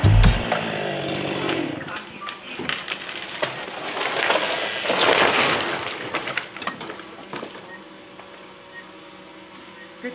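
A saw cuts through a log at a remote cabin. Loud whining bursts and crackling come close up, rising and falling in intensity before fading toward the end, with voices heard during the cutting.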